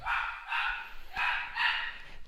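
A dog barks four times in quick pairs, sharp and fairly close, with brief pauses between the bursts.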